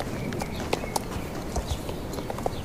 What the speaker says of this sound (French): Et là je vais le mettre au petit galop.